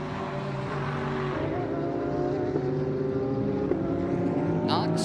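Mercedes, Ferrari and Porsche GT race cars at Circuit of the Americas run out of a corner, engines droning steadily under continuous commentary, with a faint rising whine near the end.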